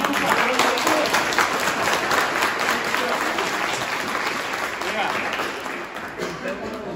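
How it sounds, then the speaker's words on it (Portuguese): A talk audience at a CTG gathering breaks into sustained, dense applause that stays loud and steady throughout, with a few voices faintly mixed into the clapping crowd. "Um aplauso para vocês."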